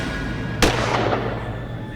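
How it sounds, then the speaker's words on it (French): A single sharp gunshot from a handgun cracks out loud and close, a sudden broadband burst with a brief tail over steady background music in a dramatic scene. "Mais elle a tiré un coup de feu."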